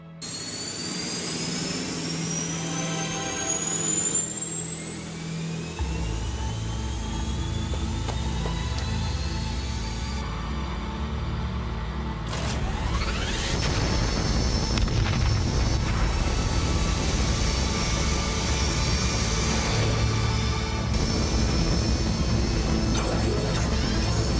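A loud jet engine roars continuously with high whining tones that rise and shift, the rumble swelling and changing character partway through.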